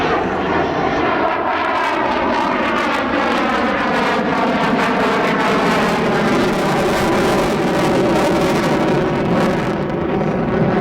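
German Tornado fighter jet in combat acceleration and pulling into a steep climb, its engines roaring loud and steady throughout, with a shifting harmonic whine layered over a constant dense rumble.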